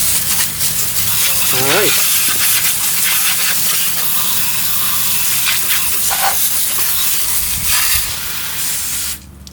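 Water spray hisses steadily across a 2014 BMW S1000R motorcycle's sealed chain as it is rinsed, a continuous close wash with a brief voice speaking over it before the spray cuts off at the end.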